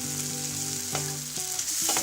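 Steady sizzling and crackling of tomatoes sautéing in a pan for mint chutney, close up, with occasional scraping from stirring.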